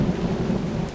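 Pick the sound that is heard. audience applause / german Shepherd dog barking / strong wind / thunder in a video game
thunder in a video game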